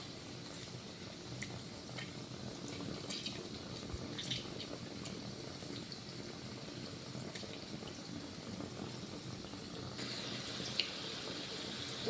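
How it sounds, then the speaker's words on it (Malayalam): A pot of water boils with a continuous rushing, bubbling hiss and faint scattered ticks, steady throughout with no voices. "നമ്മുടെ വെള്ളം നല്ല വെട്ടി തിളക്കിണ്ട്"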